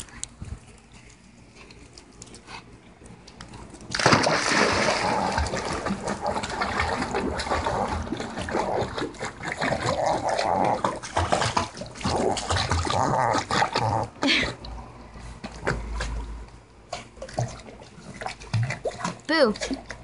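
A chocolate Pomeranian swimming in a backyard pool, with irregular splashing and water sloshing that grows louder partway through, while a person talks to the dog over it.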